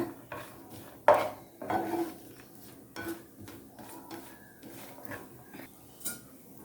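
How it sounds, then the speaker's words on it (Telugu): Chopped cashews and almonds are stirred in a pan, giving scattered metallic scrapes and clinks of a spoon against the pan with pauses between strokes and a faint sizzle, heard up close with no talk. "ఒక 5 జీడిపప్పులు, 5 బాదం తీసుకొని ఇలా సన్నగా తరుక్కొని సన్నగా కట్ చేసి ఇలా వేయిస్తున్నాను"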